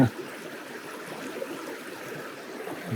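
Steady broadband rush of water flowing over a shallow river riffle on the Southern Bug, continuous and fairly close, with no talk over it.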